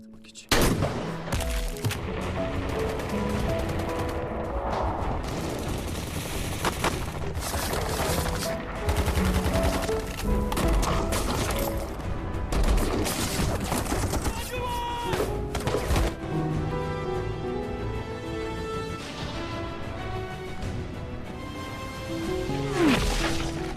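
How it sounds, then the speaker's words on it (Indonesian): Rapid bursts of gunfire from an action film battle scene crack repeatedly over a dense, loud background of music and effects, with volleys continuing throughout. "Lalu Arif dari atas bukit melepas tembakan tepat mengenai sasaran."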